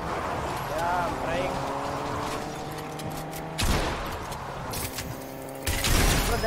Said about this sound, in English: Just get out of the car, man. It's making so much of noise.